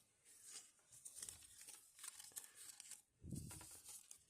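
Soft crinkling of a plastic surprise-toy packet in several short bursts, quiet and close, with brief gaps between handlings.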